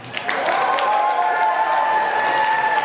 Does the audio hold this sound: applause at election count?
yes